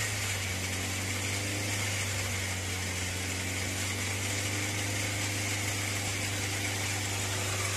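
A Volkswagen Lupo 1.0-litre three-cylinder engine idles steadily with a low, constant hum and faint vibration, unchanging throughout with no voices.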